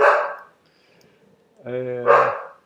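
A dog barks loudly nearby in two separate bursts, a sharp bark at the start and a longer, tonal, whining bark near the end, with quiet between them.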